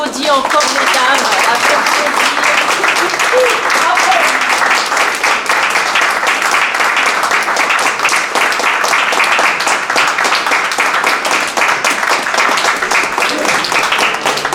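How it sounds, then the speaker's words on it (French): Sustained loud applause from an audience of women, dense and steady throughout, with a few voices mixed in near the start. "Allez, on applaudit encore mesdames."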